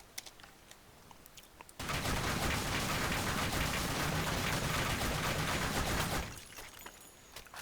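Sustained rapid rifle fire from the NX rifle in the Blackshot video game, a loud continuous burst lasting about four seconds before cutting off, with quieter game ambience on either side.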